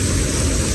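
A motorbike rides through a heavy monsoon downpour on a flooded road, with a dense, steady roar of rain and wind and a low engine rumble filling the whole moment, loud and close.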